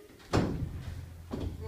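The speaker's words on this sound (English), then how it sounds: "Wrong way. The door's closed." A door in a school building swings shut with a soft thud, followed a second later by a second, fainter knock, over a murmur of room noise and nearby voices.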